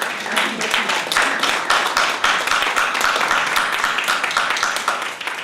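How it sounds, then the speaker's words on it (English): Seminar audience at a tourism conference breaks into sustained applause, individual claps distinct and close amid the steady patter of the room. "it's all important for us to give them a round of applause and thank them very, very much"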